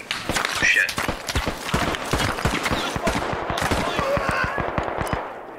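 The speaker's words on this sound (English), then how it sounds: "they're firing from above in the north" Rapid gunfire in the video game Squad comes from above, with dense bursts of sharp shots and cracks throughout and voices talking underneath.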